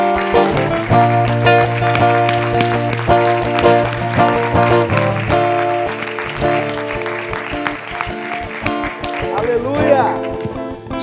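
A church congregation claps loudly in a steady rhythm over worship music, with a voice carrying on above the beat.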